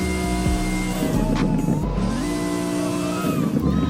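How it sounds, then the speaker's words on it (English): Supercharged supercar engine revving loudly and steadily nearby, with a whistling turbo-like whine rising and falling over a dense rumble throughout. "this is a supercharged, but it makes like a turbo sound, which is weird"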